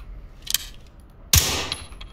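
An MP7 submachine gun fires on full auto in the SWAT shooter Ready or Not: a brief shot, then a loud, sharp sustained burst of rapid gunfire lasting under a second before cutting off.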